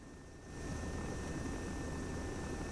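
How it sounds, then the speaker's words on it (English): A helicopter engine in the ARMA 3 video game fades in over the first half second, then holds a steady, loud whooshing drone with a faint high whine above it, with no voices. "let me turn the helicopter sound back up"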